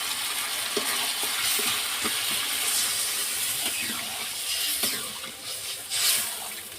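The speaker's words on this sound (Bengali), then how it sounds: "এবারে জল দিয়ে দেবো" Water is poured into a pan of frying chicken curry, setting off a loud, sustained hissing sizzle with bursts of steam and a few light clinks of a utensil, heard up close.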